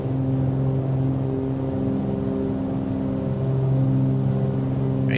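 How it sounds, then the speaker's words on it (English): Steady drone of a Cessna 310R's twin piston engines in Microsoft Flight Simulator, a constant loud hum with strong harmonic tones that swells slightly toward the end, heard alone with no talking. "The engine sounds are really well made for this aircraft."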